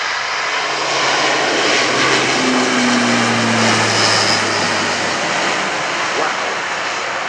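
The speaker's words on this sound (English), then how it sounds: "What a takeoff, demonstrating a huge power-to-weight ratio" An aircraft takes off at the RIAT 2018 airshow at Fairford with a loud, continuous engine roar, a rising tonal whine running through the thick, close, steady rumble.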